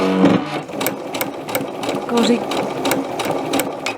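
A Bernette sew&go 8 sewing machine runs steadily, its needle stitching in a quick regular pulse, while a person talks over it.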